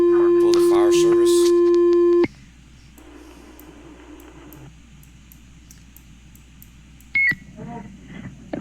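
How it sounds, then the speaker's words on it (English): Emergency radio carries a loud steady dispatch tone for a county fire service during tornado warnings, cutting off abruptly, followed by quiet radio hiss, a short high beep and faint talk. "What you're hearing now is tones dropping for the fire service."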